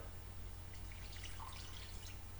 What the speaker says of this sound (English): going to add the other cup of water